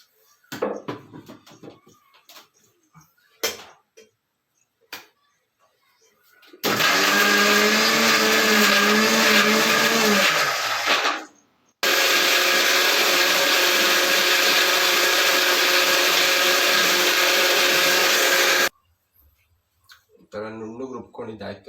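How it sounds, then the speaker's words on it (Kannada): An electric mixer grinder grinds chili powder into masala for fish sambar. It runs loud and steady in two long roaring bursts with a brief pause between them, and a voice talks before and after. "ರುಬ್ಕೊಂಬರ್ತೀನಿ ಆಯ್ತಾ, ಮಿಕ್ಸಿಯಲ್ಲಿದೆ, ರುಬ್ಕೊಂಬರ್ತೇನೆ."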